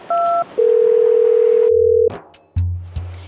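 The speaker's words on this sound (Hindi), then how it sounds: "ये दे माँ का लगा लेता हूँ फोन।" A mobile phone plays a steady dial tone while a call to mom is placed, preceded by a short two-note beep and followed by lower tones, loud and close with no speech.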